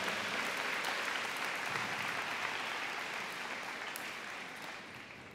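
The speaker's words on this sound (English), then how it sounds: "one more big round of applause" Sustained applause from a large crowd at a senior high school convocation, a dense steady roar of many hands that fades slightly toward the end, with no voices over it.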